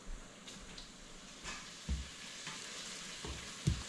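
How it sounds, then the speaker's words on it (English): Garlic sizzles after being thrown into a hot pan while cooking collard greens, a quiet, steady frying hiss broken by a few soft knocks and stirring clatters. "there goes the garlic. I'm gonna throw that in the pan right now."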